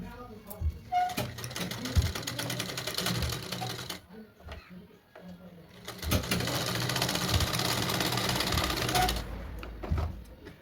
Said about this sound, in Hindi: धीरे धीरे इसकी फिनिशिंग के साथ सिलाई करेंगे